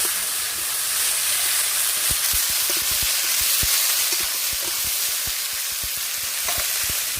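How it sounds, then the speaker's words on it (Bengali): Chopped ash gourd frying in a pan makes a continuous hissing sizzle, with frequent scraping taps as it is stirred and turned, close by and without voices. "কুচানো চাল কুমড়োগুলো আমি দিয়ে দেবো নেড়ে চেড়ে আমি ভালো করে ভেজে নেব"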